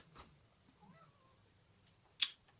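An indoor cat near a bed lets out one faint, short meow, followed later by a brief sharp click in a quiet room.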